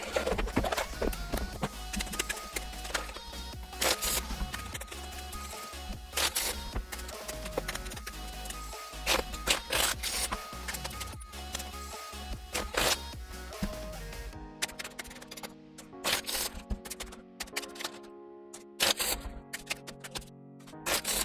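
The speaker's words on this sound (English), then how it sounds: "Let's shuffle this Wizards deck up." Tarot card shuffling fills the clip: dense riffling and flicking clatter, close and continuous, turning into sparser slaps and taps toward the end.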